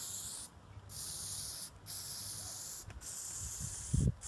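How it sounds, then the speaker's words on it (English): An aerosol can sprays Plasti Dip onto a car roof on an Opel Coupe Turbo, making long close hissing bursts separated by short pauses, with a faint thump near the end. "you need to try and keep the spray can a little bit further away"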